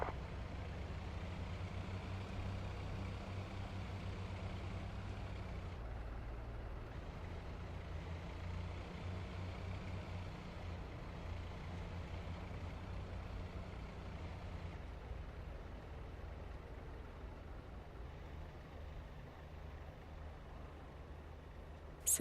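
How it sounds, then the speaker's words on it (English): Aircraft ground power unit running in the DCS Viggen flight simulator, a steady low mechanical hum and drone at moderate volume that shifts slightly in pitch now and then, with no talk. "Ground power is now on."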